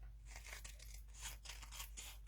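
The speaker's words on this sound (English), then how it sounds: "take my scissors and cut it" Scissors snip through paper in a stamping craft studio, a string of quick crisp cuts and rustles close up over a low steady hum, with no voices.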